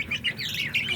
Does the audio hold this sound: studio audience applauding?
no